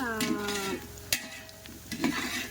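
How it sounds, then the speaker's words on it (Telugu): Onions fry in hot oil for chicken biryani with a soft sizzle, while a spoon stirs and scrapes the pan with a sharp clink near the middle. A brief voice-like tone sounds at the start. "ఇదిగోండి ఉల్లిపాయ కొద్దిగా వేగాలండి, వేగితే పచ్చిమిర్చి టమాటా వేసేద్దాం."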